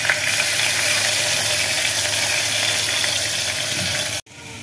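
Mustard seeds, curry leaves and garlic-ginger paste sizzling in hot oil, a loud dense hiss with faint crackles that holds steadily, then abruptly drops off near the end.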